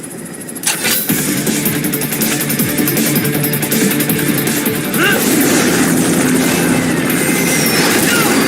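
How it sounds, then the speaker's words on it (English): A helicopter in the video game Metal Gear Rising: Revengeance roars loudly and steadily, its rotor and engine noise mixed with rhythmic thumps and occasional crashing game effects. "Bring the chopper around."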